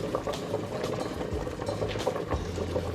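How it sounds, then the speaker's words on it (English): Pasta boiling in a pot of water on a kitchen stove, a steady, dense bubbling and hiss that runs without pause, fairly close and with no voices. "And you can hear the pasta over there bubbling."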